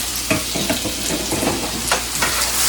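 Chopped onion with a tablespoon of garlic sautés in vegetable oil over medium heat, a steady close sizzle broken by a few light stirring scrapes, with no talking.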